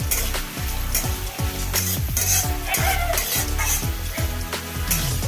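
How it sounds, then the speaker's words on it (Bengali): Curry leaves, chopped onion, carrot, peas and ginger stir-frying in hot oil, a steady close sizzle broken by repeated rhythmic scrapes and taps of a spatula against the pan. "আদা কুচি দিয়ে হালকা নেড়ে ছেড়ে ভেজে নেব"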